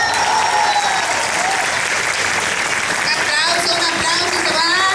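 A street crowd at a teachers' rally in the historic centre of Valladolid applauds steadily and loudly, with voices, shouts and whistles mixed into the clapping throughout.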